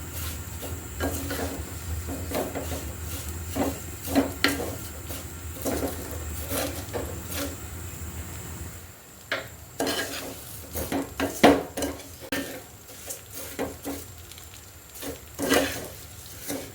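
Vermicelli for sheer khurma stirs and lightly fries in a pan, with repeated scraping knocks and clinks of a utensil against the metal over a low hum, irregular and close, pausing briefly midway before resuming.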